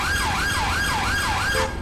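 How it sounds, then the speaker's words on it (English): A police car siren in a GTA 5 game wails loud and steady in repeated rising and falling sweeps, then cuts off abruptly at the end. "Let's cut my siren."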